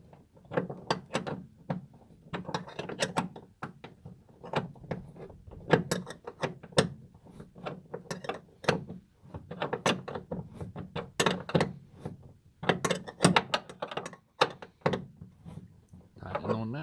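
A 1/2 wrench ratchets while tightening a truck bed tie-down, producing a long run of rapid, close metallic clicks in uneven bursts.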